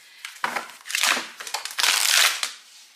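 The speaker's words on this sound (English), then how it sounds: "Got cards falling on the floor already." Tarot cards dropping onto the floor give several close, crisp slaps and rustling flutters in uneven bursts, each landing sharp and papery, with no voice over them.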